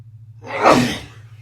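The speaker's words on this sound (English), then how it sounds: "sorry, I'm sneezing a lot." A single sharp human sneeze, close and sudden, with a brief inhale leading into the burst.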